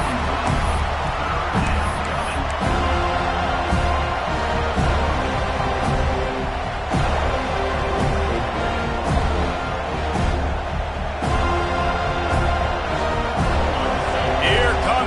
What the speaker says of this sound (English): This home crowd as the defense tries to get off the field on third down.